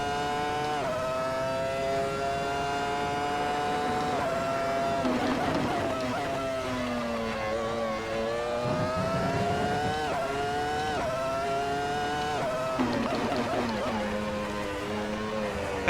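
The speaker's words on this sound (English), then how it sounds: "It's very cool to see that Mercedes coming out of the chicane sideways." A Mercedes Formula One car on grooved tires snarls out of a chicane in Spanish Grand Prix qualifying, its engine pitch climbing and dropping through rapid gear changes, loud and close, with a voice over it.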